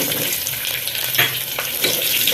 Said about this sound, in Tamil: வெங்காயம் போட்டு கொஞ்சம் வெங்காயம் வதங்கட்டும்